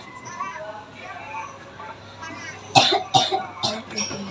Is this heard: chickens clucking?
no